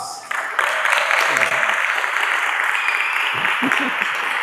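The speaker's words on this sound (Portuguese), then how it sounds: "Então eu quero que a gente o receba com a salva de palmas." An audience at a lecture on cangaço breaks into sustained applause, a dense, steady clapping that fills the room from start to finish, with a voice briefly heard beneath it.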